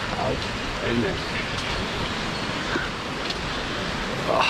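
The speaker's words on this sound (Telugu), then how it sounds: "ఫుల్ పడుతుందండి వర్షం." Heavy rain pours steadily in a dense, constant hiss with no pauses, while faint voices murmur now and then beneath the downpour.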